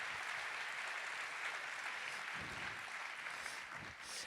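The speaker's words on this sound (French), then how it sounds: "Allez, on les applaudit bien fort tous les 5." An audience at an awards ceremony for the Pierres d'Or 2020 applauds steadily, a dense continuous wash of clapping from a crowd filling the room.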